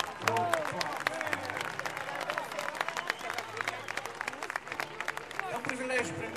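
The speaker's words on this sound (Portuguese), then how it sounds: "Um aplauso para o produtor do Aplauso" Audience applause at a live band presentation: a dense, steady patter of many hands clapping, with crowd noise and a voice speaking over it throughout.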